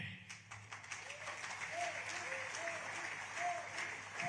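Audience applause during a speech at an India–Nigeria event, a steady wash of clapping filling the room for several seconds with faint voices underneath.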